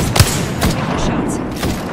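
Gunfire in the battle-royale game Apex Legends, played as Wraith in ranked: a few heavy, booming shots about half a second apart over a steady low rumble of game noise.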